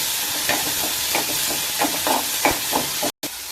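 Soaked chana dal fries in a pan with a constant hiss of sizzling, punctuated by several close, rhythmic scrapes and taps of a spoon as it is stirred.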